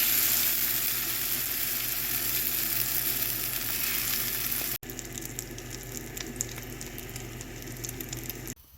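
An omelet and hash browns fry in bacon fat with a continuous close crackling sizzle, holding steady throughout apart from a brief dropout midway.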